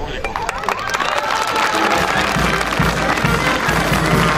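Audience applauding and cheering for a clown at a tribute event in Chigmecatitlán, Puebla: dense, sustained clapping from a crowd that holds steady throughout, with voices mixed in.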